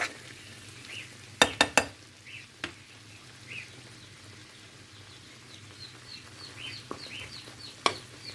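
Flour roasted in goose fat for evelik soup, stirred in a pan: a quiet, steady dry frying hiss broken by a few sharp utensil clacks against the pot, heard close with no talking.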